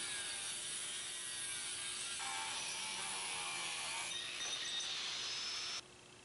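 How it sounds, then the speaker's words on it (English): An angle grinder cutting a steel farrier's rasp in half produces a steady, close, harsh grinding hiss that runs continuously, with its pitch shifting slightly as the cut progresses, before dropping off at the end. "go over to the angle grinder and cut it in half"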